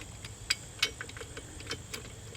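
A short half-inch ratchet turns an 18mm socket on an extension, tightening wheel weight bolts on a John Deere 3025E tractor; a few quiet, irregular clicks sound close against a faint background.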